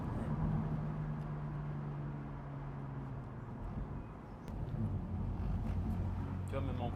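BMW M2 of 371 horsepower with its exhaust in comfort mode and the valves open, heard as a low, steady engine drone from inside the car while people talk over it.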